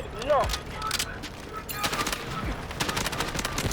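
Bursts of automatic gunfire in the shooter game Delta Force, rapid cracking shots in short volleys over a busy mix, with a player's voice talking over the action.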